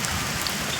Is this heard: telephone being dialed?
no